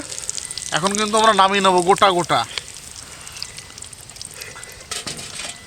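Rohu fish fingers fry gently in a pan, a steady soft sizzle running under a voice talking over it and continuing faintly once he stops.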